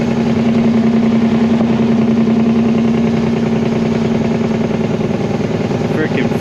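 Straight-piped 2004 Peterbilt 379 truck, fully loaded, with its engine brake engaged: a loud continuous rumbling drone with a steady pulsing beat, heard from the cab, with a voice over it.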